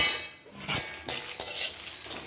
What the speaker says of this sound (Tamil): இது எல்லாத்தையுமே நம்ம வறுத்துட்டு எண்ணெய் ஊற்றாமல் வறுக்கணும்